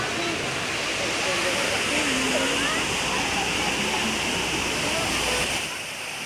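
Water fountain in a park in Peddapuram, next to a Buddha statue, splashing in a constant, loud hiss that stays close and even throughout, with no clear voices.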